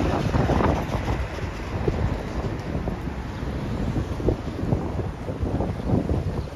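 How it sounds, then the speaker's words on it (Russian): Strong outdoor wind buffets the microphone in a steady, loud low rumble with gusty surges throughout and no voice over it. "Опять ветрюган, я даже не знаю, будет ли меня вам слышно."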